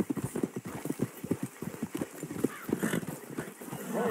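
Horses clip-clop in Red Dead Redemption 2, a steady run of hoofbeats on a road close by, with faint game ambience behind them.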